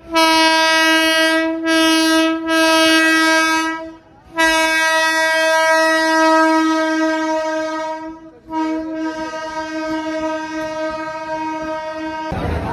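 AC local electric train on the Bongaon–Sealdah line, loud sustained multi-tone horn blasting in long bursts with brief breaks while the train rolls past, close and dominant.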